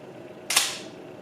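A battery-driven film camera's shutter fires once at 1/800 second, a single crisp, close click with a short, fading tail against a quiet background.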